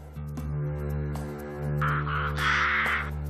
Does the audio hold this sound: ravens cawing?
yes